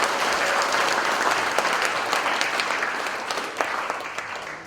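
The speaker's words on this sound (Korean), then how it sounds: "두 분 위에서 박수 한번 부탁드리겠습니다." An audience at a peace talk concert in Seoul gives two guests a steady round of applause, dense clapping that holds for several seconds and fades gently at the end.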